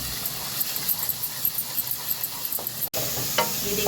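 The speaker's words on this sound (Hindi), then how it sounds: "ये देखो हमारा प्याज कितनी अच्छी तरीके से भून रहा है।" Onion with ground garlic frying and being stirred in a pan, a steady close sizzle with scraping stirs throughout, briefly interrupted by one sharp cut near the end.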